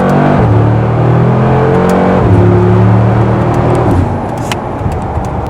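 A 2018 Mercedes G63 AMG accelerating hard, its loud engine climbing through the revs with a shift, then easing into a steady cruising drone with road and wind noise.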